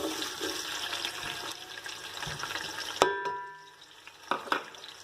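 Onion dropped into about half a cup of hot oil for potato rice: a loud hiss and sizzle fills the first few seconds, then drops off abruptly and is followed by scattered clinks and faint crackling.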